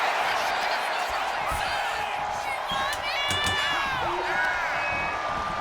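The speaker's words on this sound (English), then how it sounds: "She is feeding off this crowd right now." Arena crowd in a WWE 2K25 tag team wrestling match: a steady, dense roar of cheering with whoops and high whistles rising above it, continuous throughout.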